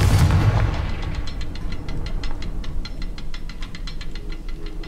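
A Confringo fire spell explodes in the Hogwarts Legacy video game: one loud burst, then a string of rapid crackling, popping impacts that keep going at a steady level for several seconds.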